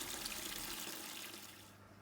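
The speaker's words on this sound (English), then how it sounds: "Now it's time to refill the tank, making sure I add a dechlorinator to remove any chlorine from the tap water." Tap water running steadily into a koi fry tank during a refill, a continuous close rushing splash that eases and thins toward the end.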